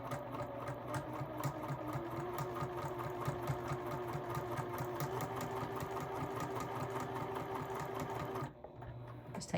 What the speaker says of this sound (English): Do a couple stitches, then back stitch, and then just continue right on down the crease.